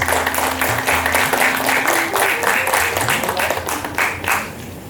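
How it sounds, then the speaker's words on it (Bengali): Audience applause at a Bengali cultural festival event, a dense steady wash of many hands clapping throughout, with a sustained musical tone running underneath and the clapping easing slightly near the end. "জোরে হাত তালি হোক।"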